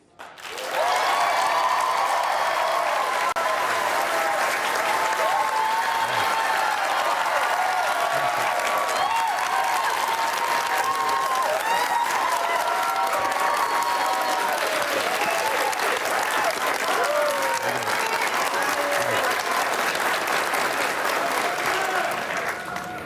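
A town hall audience at a televised forum with Senator Bernie Sanders breaks into sustained, loud applause that holds steady for over twenty seconds, a dense wash of many hands clapping with faint crowd voices underneath.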